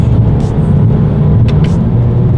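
A 2020 Toyota Corolla SE with a CVT and paddle shifters accelerates, giving a loud, continuous low engine drone and road rumble heard from inside the cabin, with no distinct breaks.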